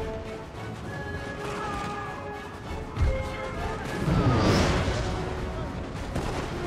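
Cannon fire on a battlefield in the Napoleon: Total War game, with a heavy boom near the middle and a rumbling crash that follows, set against a busy mix of battle noise and game ambience.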